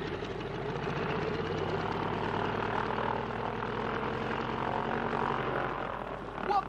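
Propeller aircraft engines of an old plane roar steadily at high power, a loud continuous throbbing drone throughout with a slight rise near the end.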